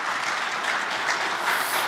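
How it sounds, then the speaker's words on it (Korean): A church congregation at a pastor's retirement service claps for the pastor in a steady, even burst of moderately loud applause with no voices over it. "이번에는 주 목사님에게 박수를 보내주셔야 할 것 같습니다."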